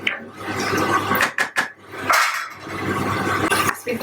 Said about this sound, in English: give it a stir so it doesn't stick to the pan